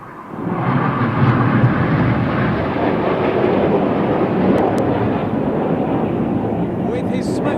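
Red Arrows display jets pitching up to roll at the Eastbourne International Airshow, a loud, sustained roar of jet engines that swells in quickly and stays heavy and rumbling overhead throughout.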